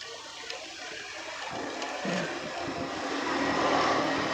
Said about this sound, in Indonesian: sungai kecil